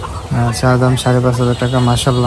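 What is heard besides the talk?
chickens calling at a poultry market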